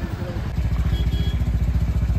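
A two-wheeler motorcycle idles and creeps through a snowy traffic jam on the road to Solang Valley near Manali, its engine giving a close, steady low thumping pulse with light clatter, no talk.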